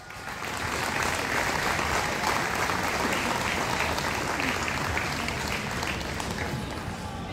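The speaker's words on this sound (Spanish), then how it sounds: "Un fuerte aplauso para los graduados." Sustained applause from a graduation ceremony audience, a dense, steady wash of clapping held at even strength throughout with faint crowd murmur beneath.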